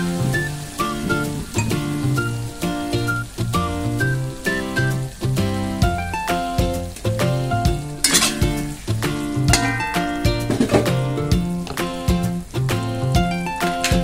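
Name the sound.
stirring and frying Thai paprika beef in a pan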